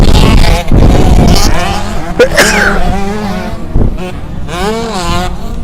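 Several 125cc two-stroke dirt bikes, including a Yamaha and a Husqvarna, race at a Manitoba motocross event, their engines buzzing and rising and falling in pitch as they pass, loud and continuous with some crowd-like noise mixed in.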